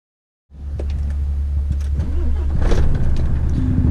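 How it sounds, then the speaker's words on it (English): A truck engine starts up after a moment of silence and settles into a loud, steady low idle rumble heard from the cab with a window partly open, with some clicks and a faint rising whine over it. "And I'm gonna have the window a little bit open so you can hear the nice monster of an engine this truck has."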